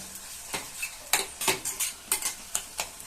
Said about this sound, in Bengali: এবার এটাকে ভালোভাবে নাড়ব